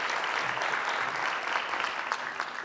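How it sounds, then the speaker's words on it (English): Audience applause after a juggling demonstration at a STEM conference talk, a dense, steady patter of clapping lasting a few seconds at moderate distance with no voices over it. "A round of applause for Kent."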